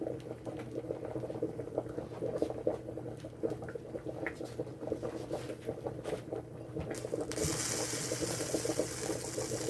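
Fish soup simmers in a pot with a constant close bubbling and gentle popping, growing into a louder hissing boil in the final seconds, with no voices.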